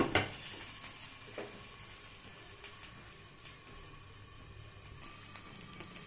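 Coriander and vegetables sautéing in a pan for tomato soup, a soft, steady sizzle with occasional stirring scrapes, fairly quiet and close, with no voices.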